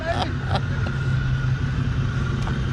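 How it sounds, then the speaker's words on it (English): A loud Ford car's exhaust rumbles at a Ford enthusiasts' meet, a steady low engine drone with a few sharp clicks and knocks on top, close and continuous, with faint voices nearby. "we gotta hear his exhaust. Dude, that thing is loud."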